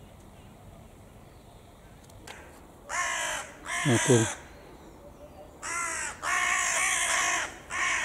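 Crows caw by the Dnieper in several loud, harsh bursts, some single and some in quick pairs, close to the listener, over a quiet outdoor background with someone speaking briefly.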